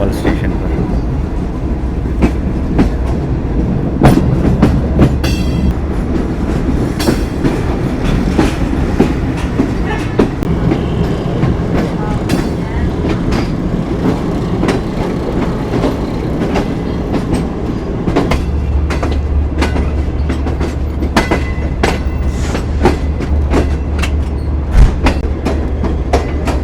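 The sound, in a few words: train arriving at Khanewal station, Pakistan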